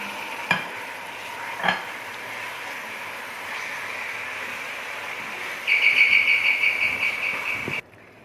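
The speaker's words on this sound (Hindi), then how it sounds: "दो मिनट कीमे को ऑयल में भूनने के बाद" Half a kilo of minced meat, keema, browns in oil in a pot, a soft steady sizzle with a few sharp clinks of a utensil against the pan and a brighter hiss near the end before it cuts off.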